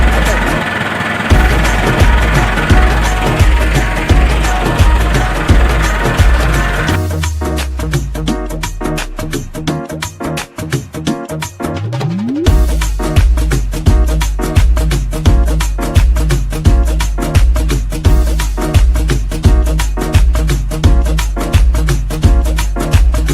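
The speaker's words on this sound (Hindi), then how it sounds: "तो मैं खुद ट्रैक्टर चलाता हूँ" A farm tractor engine runs loud and close while being driven in a village, a steady pulsing chug with a brief drop and revving midway before the rhythmic thump resumes; someone talks over it at times.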